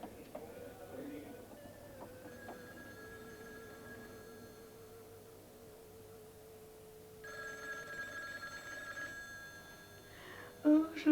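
An old-style telephone bell ringing indoors, with soft bursts of rings under quiet background sound and a voice near the end.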